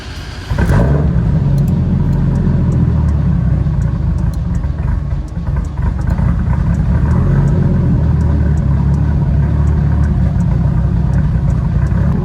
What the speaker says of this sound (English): So I'm going to go ahead and start the vehicle now.